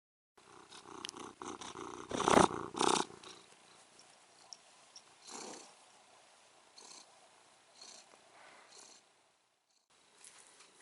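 A pet cat purring close by, soft rhythmic rumbling bursts with a louder stretch early on, then quieter intermittent purrs and a short pause near the end.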